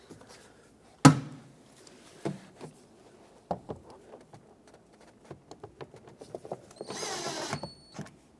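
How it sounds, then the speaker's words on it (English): Coarse-thread screws are driven into a plastic door panel on a 2009-2014 Ford F-150 during a front door lock actuator replacement, with a sharp knock, scattered clicks and creaks, and a brief whirring drive burst near the end. "Now let's put the bottom 2 screws in."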